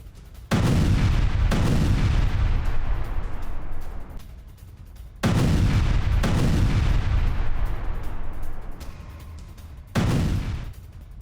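Three heavy booming gunfire bursts from a BMP-3 infantry fighting vehicle, each a loud sustained roar that slowly fades, separated by brief quieter gaps; distant military firing on positions.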